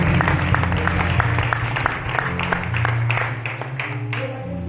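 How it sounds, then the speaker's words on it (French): A church congregation claps and cheers steadily for Jesus Christ, a dense, continuous wall of applause with scattered sharp claps and a low rumble of crowd voices throughout. "Acclame pour Jésus-Christ."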